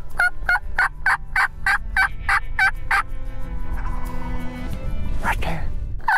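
A wild turkey on a turkey hunt: a run of sharp, evenly spaced calls rings out for about three seconds, then a loud gobble bursts in near the end, heard outdoors.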